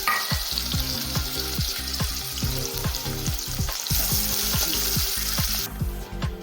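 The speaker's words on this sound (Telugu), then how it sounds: "ఆనియన్స్ ఇలా ఫ్రై అవుతుండగా" Sliced onions fry in hot oil for a chicken curry gravy, a dense close crackling sizzle with frequent pops and stirring scrapes, loud and continuous throughout.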